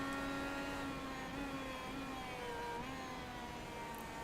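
IndyCar engine in the iRacing sim at Imola lifting off the throttle and coasting under engine braking before a braking zone: a steady, loud whining drone with falling harmonics, continuous for about four seconds.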